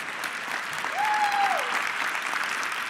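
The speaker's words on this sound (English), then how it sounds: "you can clap for that" Steady applause from a large audience at the Microsoft Ignite 2023 keynote in Seattle, a dense wash of clapping lasting the full three seconds with no voice over it.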